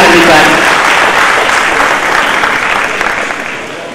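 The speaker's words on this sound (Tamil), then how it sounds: "பலத்த கரகோஷத்துடன்" An audience at a Tamil television actors' association gathering for the introduction of election winners claps loudly and densely, the applause starting strong and gradually thinning toward the end.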